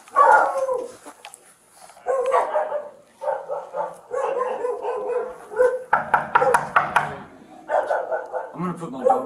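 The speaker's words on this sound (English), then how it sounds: "I'm going to put my dog in the bathroom" A dog barks repeatedly indoors in a home, loud sharp bursts with yips and whimpers in between, irregular and close, with people talking over and between the barks.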